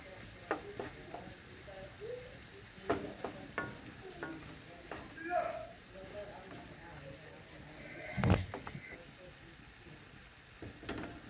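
Chicken breast mqila stirred and frying in a pan: soft scraping strokes and light clatter over a faint sizzle, while a voice talks throughout.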